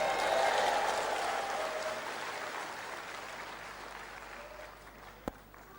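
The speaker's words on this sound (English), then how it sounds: "Clap your hands anyhow." An audience at a sermon claps loudly, a dense, steady applause from a large crowd that slowly fades, with one sharp clap standing out near the end.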